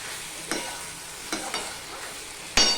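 Pumpkin leaves and stems stir-fried with potatoes in a pan, a steady hiss of frying broken by a few scraping strokes of the spatula and one sharper clack near the end, close, no voices.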